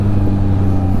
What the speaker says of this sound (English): The auto blipper, it's like clutchless downshifting, but it like rev matches for you.